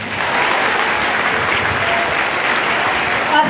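Dense, steady applause from a large crowd at a school closing exercise for Bulua Central School, held in Liceo, sustained and loud for several seconds with no one speaking.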